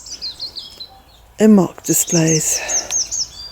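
Chirping birdsong trills and repeats in the background outdoors near a veranda, clear but moderate, while someone speaks briefly over the middle of it.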